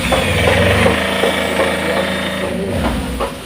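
A Tata car engine idles close by after starting, a steady low rumbling drone with a slight mechanical rattle, fading a little toward the end.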